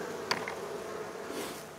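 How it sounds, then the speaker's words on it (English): Honey bees from a colony filling about six frames in a ten-frame hive box buzz in a steady, dense drone close by, with a faint brief tap early on and no talking. "About 6 frames of bees"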